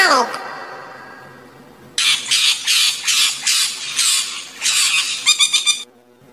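A parrot squawks in a rapid series of loud, harsh, raspy calls, about a dozen bursts in quick rhythm, heard alone after a brief fading tone.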